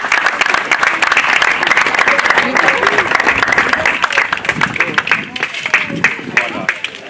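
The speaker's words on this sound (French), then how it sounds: "Je pense qu'on peut applaudir." An audience at the unveiling of plans for the new Mater Dei high school gives loud, sustained applause with distinct individual claps, slowly thinning toward the end.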